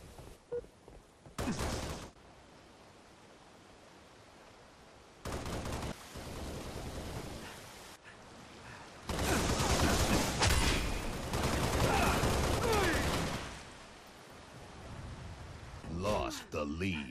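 Gunfire in the Halo Reach multiplayer video game, heard as loud bursts of rapid shots and sustained automatic fire separated by quieter gaps, with the game's other sounds and some talk around it.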